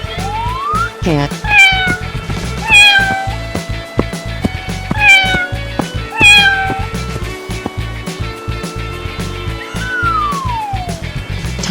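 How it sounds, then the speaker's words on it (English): A cartoon cat meows several times in drawn-out rising and falling calls over a light, rhythmic children's music backing, with a final long meow near the end. "Cat."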